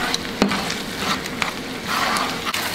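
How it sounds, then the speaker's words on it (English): Seafood dropped into a pan of simmering pasta sauce, giving a steady close sizzle and bubbling with a few sharp clicks and clatters of stirring, no voices. "And now I'm gonna add my seafood."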